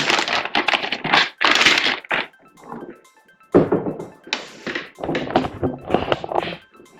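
Crinkling plastic and rustling handling noises in loud bursts with short pauses, close up, as a graded video game case is pulled from a plastic bag.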